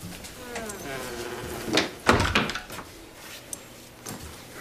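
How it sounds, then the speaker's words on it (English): A door is pushed shut in a dramatic Western scene, with a thudding bump and rattle after someone speaks. Then come softer knocks and a faint click while the room goes quiet. "Close the door."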